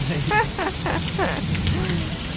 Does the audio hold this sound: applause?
no